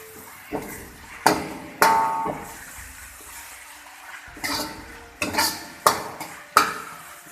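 Food being mixed in a pan with soy sauce and sesame oil, several sharp scraping and clanking strokes of a utensil at irregular intervals over a low sizzle, close and with no talking.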